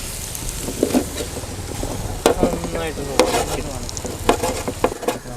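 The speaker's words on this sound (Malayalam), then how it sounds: "ഇനി നമുക്കിതെല്ലാം കൂടെ ഒന്ന് നന്നായി മിക്സ് ചെയ്ത് നമുക്ക് ഒന്ന് വഴറ്റിയെടുക്കാം." Onions and curry leaves sautéing over a low flame, a steady sizzle with repeated spoon scrapes and stirring knocks against the pan, close and alone.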